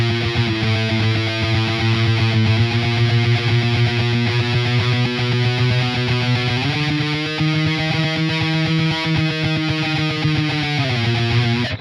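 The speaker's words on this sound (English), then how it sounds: "there's tons of reverb and stuff, so it gives it that sort of haunting, echoey thing" Tremolo-picked electric guitar riff drenched in heavy reverb, a rapid, steady shimmering stream of distorted notes that shifts pitch partway through, with a haunting, echoey wash that rings out continuously for the whole stretch.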